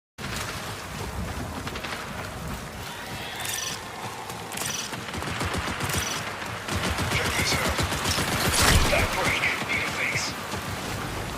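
Gunfire in the video game Marathon, a continuous stream of sharp shots over a rumbling battle background, growing louder toward the end.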